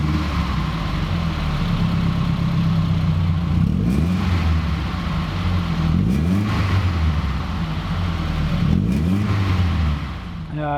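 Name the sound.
four-cylinder car engine revving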